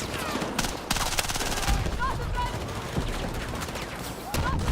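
Battlefield 6 gunfire: rapid, loud bursts of automatic fire with separate sharp cracks and whizzing rounds, close and dense throughout, with a voice partly buried underneath.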